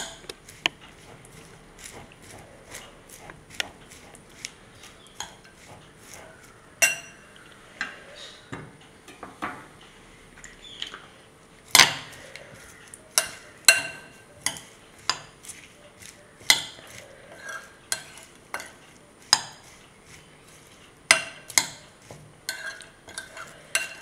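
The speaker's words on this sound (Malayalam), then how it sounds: "നന്നായിട്ട് ഇളക്കുക" Mango pickle being stirred with spice masala in a pan, a sparse run of light metallic clicks and scrapes from a spoon, irregularly spaced and fairly quiet.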